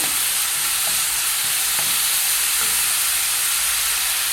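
Onions fry with soy sauce in a pan over a high gas flame, a loud, dense and continuous hiss with a few faint clinks underneath.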